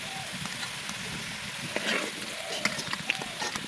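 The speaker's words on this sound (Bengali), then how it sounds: "এখন আমি আলুগুলো হালকা করে ভেজে নেব" Potatoes fry in hot oil in a wok, giving a steady bright sizzle with a few sharp pops and spatters near the end, close and moderately loud throughout.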